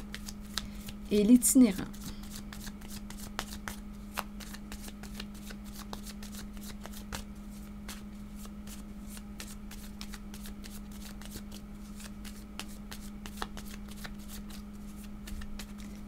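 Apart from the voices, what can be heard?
shuffling tarot cards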